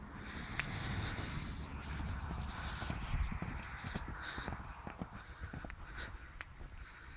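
A horse trots with steady clip-clop hoofbeats, heard outdoors under constant wind noise on the microphone.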